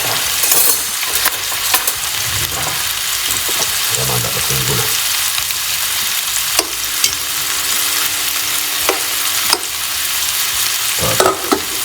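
Salmon fillet frying in a pan at home, turned onto its other side: a steady loud sizzle and spatter runs throughout with brief scraping and stirring clatters, and no talk is heard.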